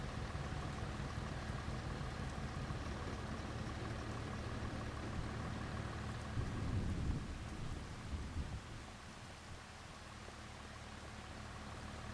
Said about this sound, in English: Looks like we've got a bit of rain.